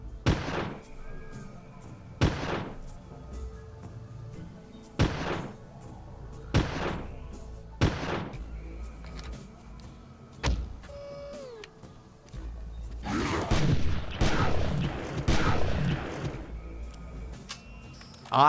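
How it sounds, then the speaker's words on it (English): Sharp, loud sniper rifle shots in the hunting game Carnivores ring out about nine times at uneven intervals, each with a short echoing tail, followed by a louder burst of rumbling noise near the end. "I draw my sniper and decide to initiate the fight."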